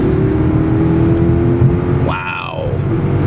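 A 2012 Mercedes-Benz CL 550 coupe accelerates hard with a steady loud engine roar from inside the cabin, the pitch sweeping upward through a gear before settling into continued heavy pulling.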